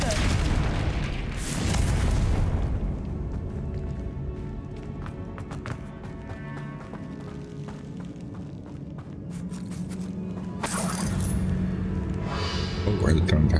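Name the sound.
Confringo spell explosion in the video game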